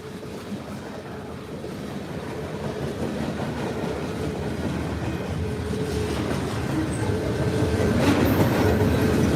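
A BNSF freight train with short bulk cars and a scrap gondola rolls past nearby in a continuous rumbling clatter of wheels on rail, growing slightly louder toward the end.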